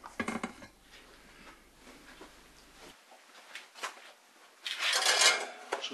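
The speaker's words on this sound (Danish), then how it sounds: "Så sætter vi anden i ovnen igen" A metal roasting pan holding a duck is slid back into a home oven, with scattered clanks and scrapes of metal, then a louder clattering burst near the end.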